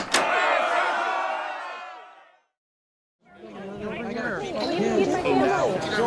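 An agitated crowd on stage in a community theater production of It's a Wonderful Life chatters and shouts loudly, breaks off into a moment of silence, then surges back into overlapping agitated voices.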